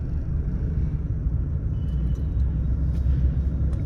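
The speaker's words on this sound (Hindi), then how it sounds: "क्लच छोड़ के रेस किया जाएगा" A car engine rumbles steadily and close by as a learner driver accelerates on a road lesson, with a low continuous drone and no talking.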